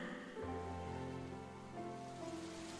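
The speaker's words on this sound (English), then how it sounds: "The rain continues to fall." Steady rain falls continuously, a dense even patter lasting throughout, with sustained tonal hums layered underneath.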